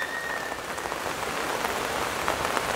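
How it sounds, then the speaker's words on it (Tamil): Heavy rain falls steadily in a garden, a dense, even hiss of drops striking surfaces close by, continuous with no pauses. "நல்ல மழை இருக்கிறதுனால"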